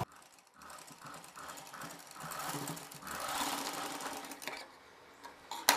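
A sewing machine runs close by, stitching thread piping onto a blouse with a folded edge. It starts in short, quick bursts, then settles into a steadier whirring run and stops with a final clunk, with no talking.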